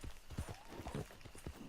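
Horse hooves run uphill in Red Dead Redemption 2, an uneven clip-clop of rapid thuds, fairly quiet with no speech over them.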